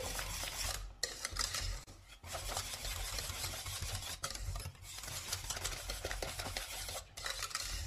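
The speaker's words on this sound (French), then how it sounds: "Une fois le mélange épaissi, vous n'hésitez pas à bien mélanger." A thickened cream mixture is stirred in a pan for an Easter cake recipe: steady close scraping and swishing with short pauses around the first, second, fourth and seventh seconds, with no voices.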